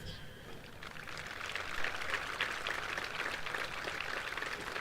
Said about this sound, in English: Please have a round of applause for his parents.